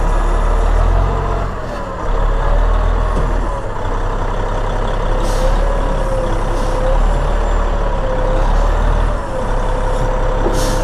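A large truck idles and creeps back and forth while manoeuvring in tight space near a steep cliff, a deep steady engine drone with brief hisses of air brakes bursting out several times.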